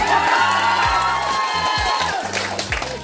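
A crowd claps and cheers loudly at a Christmas gift-giving event for senior citizens in Las Navas, whoops and shouts rising over continuous applause, while music plays underneath.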